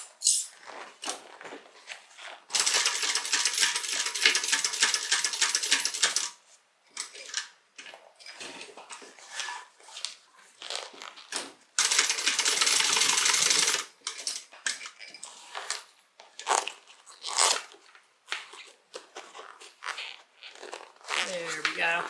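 A sewing machine restitches the corner of a fabric crossbody bag in two loud, steady whirring bursts of several seconds each, separated by quieter handling clicks and rustles.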